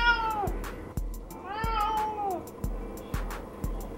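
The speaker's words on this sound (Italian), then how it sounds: "C'è anche il mio gatto che lo dice" A pet cat meows twice up close, a short falling cry followed by a longer drawn-out one, with faint tapping clicks in a quiet room.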